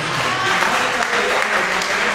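Applause from the audience at an Urdu mushaira poetry gathering, dense and loud clapping that holds steady throughout, with faint voices mixed underneath.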